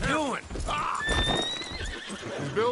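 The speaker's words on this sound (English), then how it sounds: "control that horse." A horse whinnies loudly in the video game Red Dead Redemption 2, hooves clop, and people talk over the commotion.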